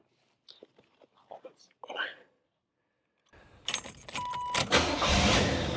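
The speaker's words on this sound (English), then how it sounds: "Let's start this bad baby up." A 1985 Chevrolet Caprice Classic with a 305 V8 cranks and fires up after soft talk and key sounds, settling into a loud, steady idle.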